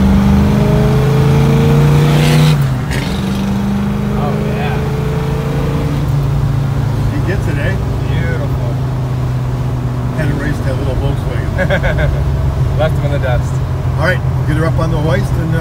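A 1965 Chevrolet Chevelle Malibu SS engine rumbles loudly up close, revving and then settling into a throaty idle with a few short blips of the throttle. Someone talks over it.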